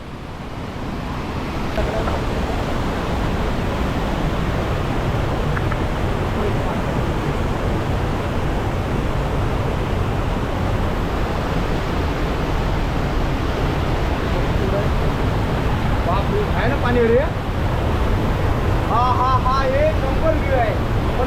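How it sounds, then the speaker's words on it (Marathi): An underground waterfall pours beneath a rock shelf in Konkan, making a loud, steady, unbroken rushing roar of water close by. "हा असा अंडरग्राऊंड वॉटरफॉल आपल्याला इथे पाहायला मिळतो"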